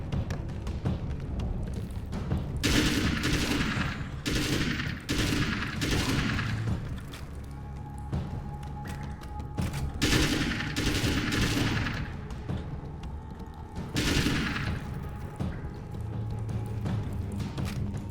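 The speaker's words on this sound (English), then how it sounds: "Automatic weapons for taking out spiders" Automatic weapon gunfire in the video game Alan Wake's American Nightmare comes as several loud rapid bursts spread through the stretch, with softer game sounds between volleys.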